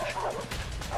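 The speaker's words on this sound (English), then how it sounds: "We can outrun dogs, man." Dogs bark and yelp while chasing during a pursuit in the video game A Way Out, loud and close with sharp overlapping barks, and a voice is mixed in.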